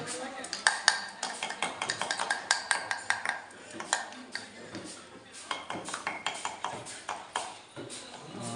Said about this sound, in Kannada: ತರಕಾರಿಯನ್ನು ಕಟ್ ಮಾಡ್ತಾಯಿದ್ದಾರೆ